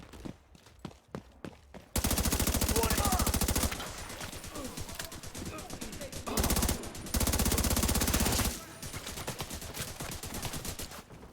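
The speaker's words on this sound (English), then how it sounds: "You shooting me for?" Automatic gunfire rattles through a Division 2 firefight: a few sharp separate shots open it, then long loud sustained bursts of rapid fire, a brief lull of scattered shots, and more heavy bursts before fading to lighter fire.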